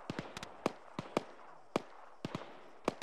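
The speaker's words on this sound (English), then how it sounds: "I think there's like one or two guys out in the hills to our west just taking pot shots." Scattered gunshots from a military shooter game (ArmA) crack out one after another, irregular single reports and quick pairs ringing across open hills, moderately distant with short decays.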